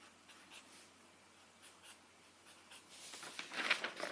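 A pen scratches across paper in short strokes, faint at first and growing busier and louder toward the end, heard close up in a quiet room with no talking.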